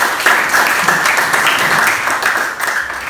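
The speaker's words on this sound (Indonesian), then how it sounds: "Kita berikan tepuk tangan untuk semua yang tadi." A classroom of students gives a round of applause for classmates who came forward, loud dense clapping sustained evenly for a few seconds.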